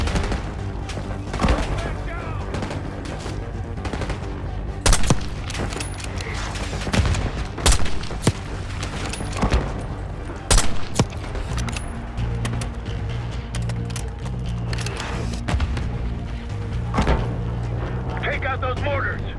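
Gunfire and mortar blasts from the video game Black Ops 6 crack and boom in repeated sharp bursts over a constant loud battlefield rumble, with voices shouting over the fighting.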